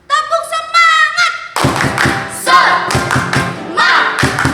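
Children at a Sunday school service perform a rhythmic spirit clap, loud near patterned claps and thumps in bursts following a sung or chanted lead line, with voices mixed in.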